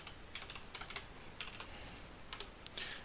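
Quiet computer keyboard typing during a login to a Linux server, delivered in short bursts of soft keystrokes separated by brief pauses, with a closer flurry of keys at the end.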